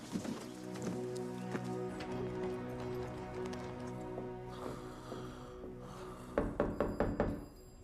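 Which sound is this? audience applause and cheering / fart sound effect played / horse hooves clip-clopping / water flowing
horse hooves clip-clopping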